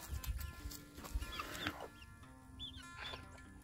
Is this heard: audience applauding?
no